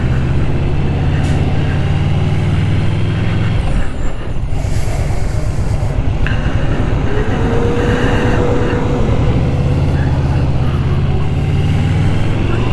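A 2020 Yamaha VMAX 1700cc Gen 2 motorcycle engine idles with a steady low rumble, then revs up briefly in the middle before settling back to idle; the sound is close and continuous.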